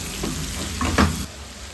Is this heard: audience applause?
no